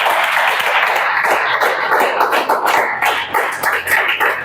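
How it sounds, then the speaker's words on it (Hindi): An audience of students in a police recruitment coaching class claps together in a dense, continuous burst of applause that stays loud and close throughout. "ताली बजाओ।"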